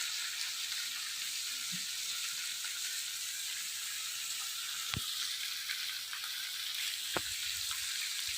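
Cabbage and chillies fry in a pan with a steady, close, bright sizzle and hiss, broken by a couple of brief clinks of a utensil, and no talk.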